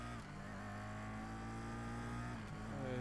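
Honda NSX race car engine in the racing game GRID, a steady loud droning note holding high revs with a brief dip near the end, heard on its own.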